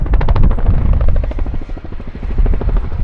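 An RAF Chinook twin-rotor helicopter at an air display thunders close by with loud, rapid rhythmic blade slap, a continuous pounding chop of rotor beats throughout.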